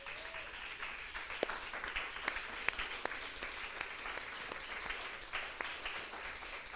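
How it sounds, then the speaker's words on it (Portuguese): A church congregation applauds together, a steady wash of clapping with a few sharper claps standing out, fairly distant and even throughout. "Se você puder ficar de pé e aplaudir a Jesus."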